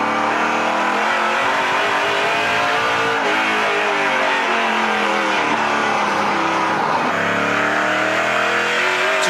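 A NASCAR Pinty's Series race car at the 2020 Canadian Tire 125 screams around the track, its engine loud and sustained, pitch rising and falling through gear shifts and corners with no voices heard.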